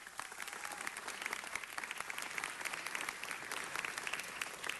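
Council meeting audience applauding a championship high school soccer team, a steady crowd of hands clapping continuously throughout, moderately loud and evenly sustained.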